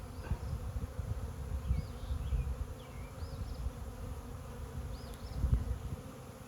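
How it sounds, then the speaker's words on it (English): A honeybee swarm high in a tree gives a steady, low, distant buzzing drone that stays even for the whole stretch, with a few faint, higher chirps above it and no talking. "There's a swarm on the top of the tree up there."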